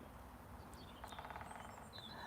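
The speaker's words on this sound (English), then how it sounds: "Like, I can hear that woodpecker." A woodpecker calls from a tree on an outdoor walk: a quick, faint series of repeated notes in the middle, with other distant birds chirping over a quiet outdoor background.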